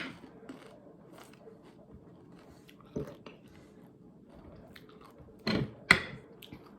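Crispy fried small fish being chewed up close, a few crunchy bites and chewing bursts standing out against a quiet background, with occasional talk.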